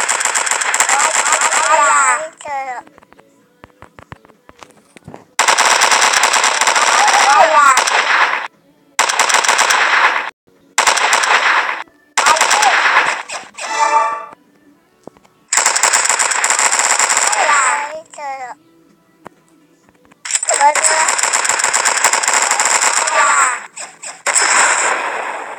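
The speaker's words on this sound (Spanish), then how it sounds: "Están disparando al niño." Machine gun fire in a video game, long loud bursts of rapid automatic shots broken by short gaps and brief pauses, close and dominant, with a voice talking in between.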